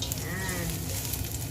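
Garlic sizzles in hot oil in a pan, the start of fish head sinigang, a steady close crackling hiss throughout with faint voices in the background.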